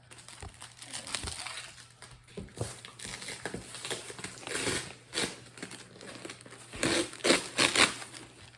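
Crinkling and crackling of tape and foam insulation being pulled apart while orchids are unwrapped, in close, irregular bursts of rustling with a few sharper tears.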